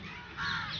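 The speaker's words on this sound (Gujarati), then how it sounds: "એક કાગડા બોલે ઉપર" A crow caws from overhead beside Kankaria Lake in Ahmedabad, a single faint, rough call heard from a distance with no voices.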